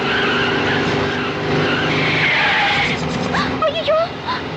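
A car skids with tires squealing as its brakes fail, loud and sustained, with a rising screech near the end and voices shouting over it.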